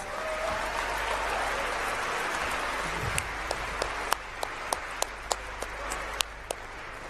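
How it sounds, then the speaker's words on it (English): Audience at a closing plenary of the Global Entrepreneurship Summit 2017 applauding competition winners, with steady clapping over broad crowd noise and a few sharper, louder claps standing out near the end. "Can we give them a massive round of applause?"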